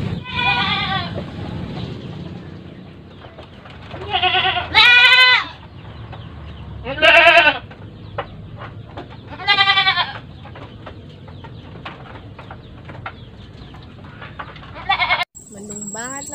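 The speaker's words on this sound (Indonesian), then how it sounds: "Mana kambing berisik bener lagi." Goats bleat loudly several times in separate bursts, some overlapping, against a quiet outdoor background with faint clucking.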